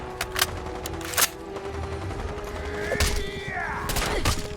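Gunfire in the video game Fallout 4 Far Harbor: a few sharp shots stand out early, then a continuous rumble of fire and whizzing effects plays under ongoing game sound.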